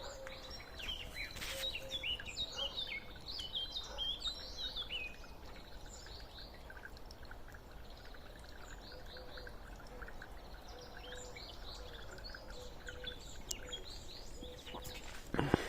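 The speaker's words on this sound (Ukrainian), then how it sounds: "Солові поють, співають." Steady birdsong from several nightingales, with bright warbling phrases and chirps repeating throughout over a low outdoor hum, moderately distant, in the morning.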